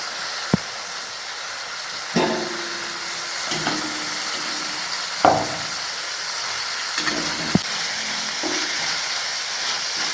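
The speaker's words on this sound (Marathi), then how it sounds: "आपले कांदे लाल झालेत, आता आपण टोमॅटो टाकून घेऊया।" Tomatoes drop into onions already browned in hot oil with curry leaves for a sprouted moth bean curry, giving a steady sizzling hiss broken by a few sharp clatters and stirring knocks.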